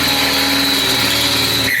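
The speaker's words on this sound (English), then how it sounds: "making sure that hole gets drilled without stepping into the other one too much" A power drill bores a hole through a steel body panel of a Classic Mini Mk1, giving a steady, loud, high-pitched whine close by that cuts off at the end.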